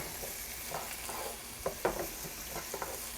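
Quiet sizzling of fried rice sauce of sesame oil, soy sauce and fish sauce with herbs, reducing in a hot pan, with soft scraping stir strokes and a few sharper pops.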